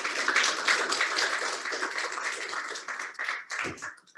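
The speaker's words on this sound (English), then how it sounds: "congratulations, round of applause for everybody who presented today." An audience at a regional pitch competition in Armidale claps for the presenters, a dense patter of hands that thins out into scattered claps over a few seconds.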